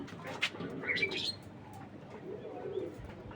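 Racer pigeons at a pigeon farm give soft, quiet coos and a few faint chirps, with light rustling in the background.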